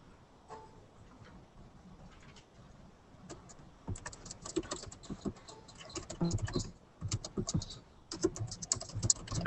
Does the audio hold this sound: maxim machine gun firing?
no